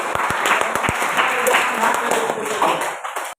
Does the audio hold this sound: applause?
yes